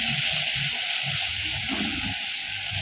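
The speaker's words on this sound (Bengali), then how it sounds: "এখানে সর্ষে বাটা আছে, ওটা তেলের উপর দিয়ে ভালো করে নেড়ে নেবো তেলটা" Mustard paste fries in oil with a steady hissing sizzle, while a spoon stirs it in short, rhythmic low scrapes close by.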